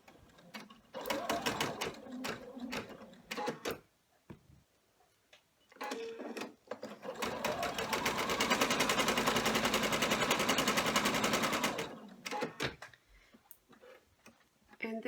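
An embroidery machine stitches a placement tack-down on an in-the-hoop bag, its needle clattering in a rapid mechanical rhythm, with short bursts at first and then one long continuous run before it stops and starts again.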